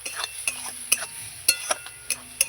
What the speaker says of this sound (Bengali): এবার ভালো করে আর একটু নেড়ে চেড়ে নেবো